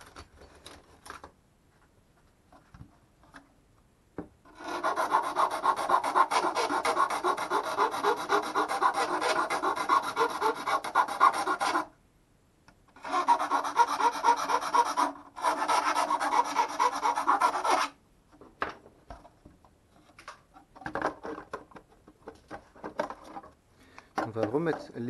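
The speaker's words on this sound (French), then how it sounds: "On va finir à la lime pour l'arrière." A hand file rasps steadily at the rear of a workpiece, close and fairly loud, in two long runs of rapid back-and-forth strokes separated by a brief pause, with quieter handling noises before and after.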